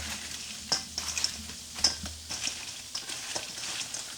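Garlic parmesan wings, double-fried Korean style, being stirred and mixed in a pan: soft scraping strokes and light clatter over a steady, quiet sizzle, with a few sharper knocks along the way.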